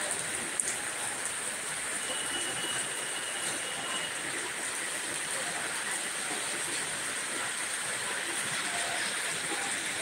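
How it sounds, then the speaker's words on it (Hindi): Heavy, continuous rain falls steadily in Odisha, a dense even hiss with no breaks and no voices throughout. "बारिश बहुत तेज हो रही है उड़ीसा में।"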